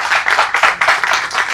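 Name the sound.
audience clapping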